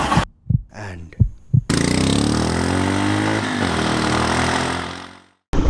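A Royal Enfield Himalayan BS4 motorcycle engine gives a few short starter cranks, then fires and runs loud and steady close by, cutting off abruptly near the end.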